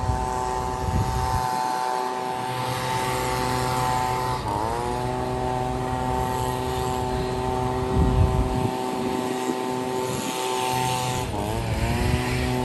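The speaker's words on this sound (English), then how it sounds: "Sorry in advance about the loud noise as we walk past this leaf blower." A leaf blower runs outdoors on a small-town street, its loud, steady engine drone with a shifting pitch, heard up close throughout as the listener walks past.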